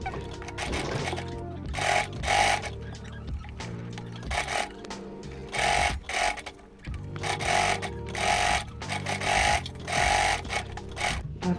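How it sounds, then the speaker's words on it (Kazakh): A sewing machine stitches the edge of a felt skullcap in close, rapid bursts of rattling stitches separated by short pauses, with light handling clicks in between. "енді осының жиегін машинкада тігіп шығатын боламыз"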